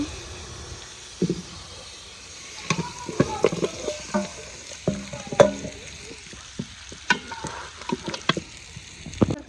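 Chicken frying in a pan with onions and potatoes while being stirred, a steady low sizzle under irregular scraping and clattering stirs, fairly close.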